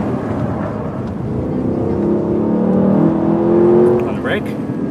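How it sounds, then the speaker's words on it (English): A Lexus LC 500 sports coupe on a track accelerates under hard throttle, its engine note climbing in pitch and growing louder before easing off, while an instructor's voice talks over it. "On the throttle, stay on the throttle"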